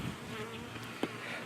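Honeybees buzzing during a beehive inspection, a steady close droning hum with a brief louder flutter near the middle.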